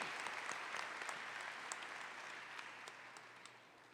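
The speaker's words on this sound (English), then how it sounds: "Let's give them a round of applause." A commencement audience applauds deans and senior administrators standing on the platform, producing a steady, even wash of many hands clapping throughout, moderately distant and filling the hall.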